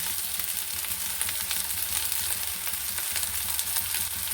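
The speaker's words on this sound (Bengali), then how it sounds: "যে ভাতটা করেছিলাম সেই ভাতটা আমি ঢেলে দিচ্ছি" Cooked rice goes into a hot pan with tomato for homemade mixed fried rice, a continuous loud sizzle and crackle with the faint scrape of stirring, steady throughout.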